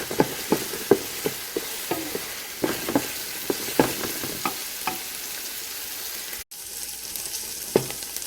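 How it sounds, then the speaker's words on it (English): Sausage and vegetables sizzle steadily in a pan, with regular scraping clicks of a utensil stirring them, loud and close with no talking. "Keep it stirring there so don't get all burned up on you."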